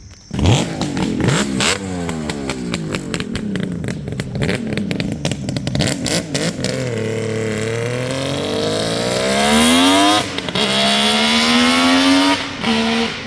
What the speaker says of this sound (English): Very unique sound that you don't hear very often these days. High performance 3-cylinder 2-stroke.